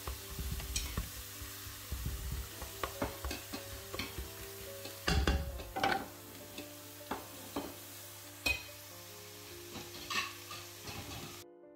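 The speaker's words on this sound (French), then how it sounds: "on aura besoin de 3 oignons hachés avec 2 gousses d'ail. On va les faire revenir avec un peu de l'huile." Chopped onions and garlic, three onions with two cloves, cooking in a little oil in a pan. A steady sizzle runs throughout, broken by scattered stirring scrapes and clinks of a utensil against the pan.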